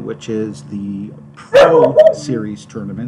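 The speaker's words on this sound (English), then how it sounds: "The dog barks every time I hop on to make a video or a live stream" A household dog barks and yips a couple of times mid-clip, sharp and fairly close, while someone talks over it throughout.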